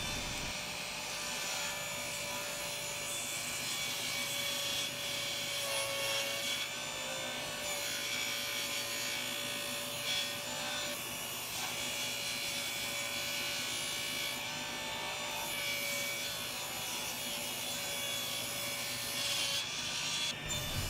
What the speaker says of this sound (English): I need to cut down the plywood for the table and the fence